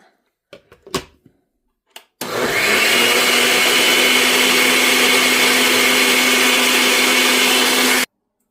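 An electric blender mixes a nut and milk energy drink. A few handling clicks come first, then a loud steady whirring roar runs for about six seconds and cuts off abruptly.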